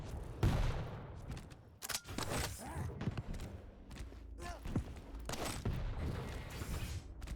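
Rocket and gun fire in a Quake match, rapid bursts of shots and heavy blasts in dense succession, with a commentator talking over the action.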